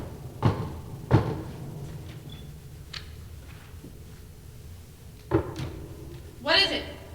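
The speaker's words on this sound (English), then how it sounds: "I've never heard someone knock on a door in such an unusual and mysterious way in all my life" A coded knock on a bedroom door in an old-time radio drama: a few sharp, widely spaced raps, two close together early and more later, followed by a short voice at the end.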